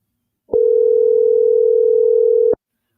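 A steady, continuous telephone tone on an outgoing phone call sounds loud and unbroken for about two seconds, then cuts off cleanly, with no voices.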